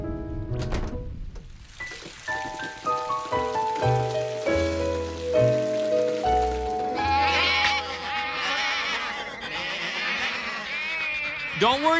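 Cartoon sheep bleating at a county fair, a few high wavering bleats over bright music with a rain-like patter, moderately loud.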